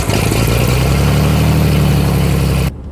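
Aircraft piston engine cranking and catching after a boost-pump prime, settling into a loud, steady close-range idle rumble that cuts off abruptly near the end.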